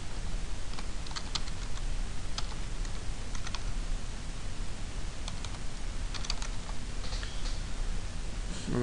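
Fingers type a file name on a computer keyboard, producing a continuous, fairly close patter of key clicks with occasional sharper taps over a noisy room background.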